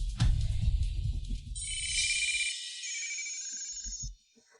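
A telephone rings back on an outgoing call, a bright electronic trill lasting a couple of seconds and then cutting off, preceded by someone talking and followed by brief faint sounds.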